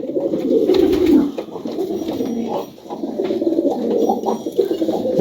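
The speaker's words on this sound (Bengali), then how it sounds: "আমার হাতে যে কবুতর দেখতে পাচ্ছেন সেটা হচ্ছে অবশ্যই টেরি কবুতর" Teri pigeons at a highflyer loft coo in low, throaty, rolling phrases, several birds overlapping close by with a short lull in the middle, and no voices.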